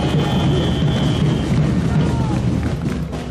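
A crowd at a political speech claps together in a large hall, a thick, booming roar of hands that runs throughout with a voice faintly over it.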